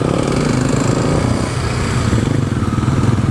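A motorcycle is ridden with its engine running loud and close, a steady pulsing drone that holds through the short stretch without a break.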